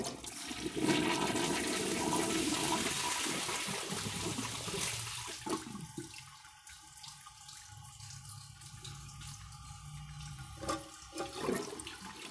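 A Kohler toilet flushes with a dish towel and washcloth in the bowl: a loud rushing gulp up close, then a long steady refill hiss and trickle, no voices.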